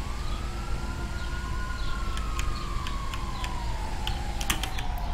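Police car siren from GTA 5 wailing in a steady rising and falling sweep over a constant engine-like rumble, with brief clicking taps near the end and no talk.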